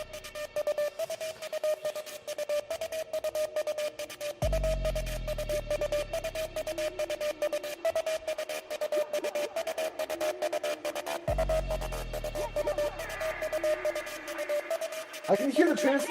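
A synth song demo plays with a steady high sine-wave tone and a rhythmic trance-gated pad, chopped pulses running throughout, with deep bass swells entering twice and a brighter burst near the end.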